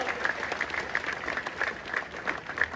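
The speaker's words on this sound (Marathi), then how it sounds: "जोरदार टाळ्या वाजवून आपण त्यांचं स्वागत करावं" An audience at a Hindu religious gathering claps steadily to welcome a mahamandaleshwar of the Kinnar Akhada onto the stage, the applause fairly faint and distant with rhythmic clustered peaks.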